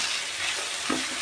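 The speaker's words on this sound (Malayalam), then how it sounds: "ഇതെല്ലാതും കൂടിയിട്ട് നന്നായി ഒന്ന് വഴറ്റിയെടുക്കണം" Chicken curry ingredients with curry leaves sauté in a pan, giving a dense, continuous sizzle with a soft stirring scrape near the end.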